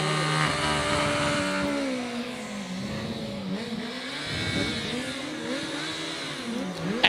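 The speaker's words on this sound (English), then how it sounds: "the rocket from Richards Bay certainly knows what to do to get this bike up the hill fast" A Suzuki Hayabusa 1300cc motorcycle racing up a hillclimb course, its engine screaming loud and continuous with pitch rising and dropping through gear changes as it charges uphill, no voices over it.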